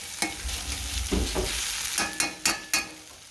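Green peppers, onions and Italian sausage sizzle steadily in a pan, with several sharp scraping and stirring knocks from a utensil punctuating the frying, close by and with no talking.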